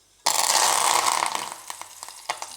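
Mustard seeds crackle and splutter in hot oil for a curry tempering, starting with a sudden loud sizzling burst and tapering into scattered sharp pops close by.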